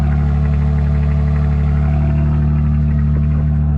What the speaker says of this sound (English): If you can hear me over the exhaust.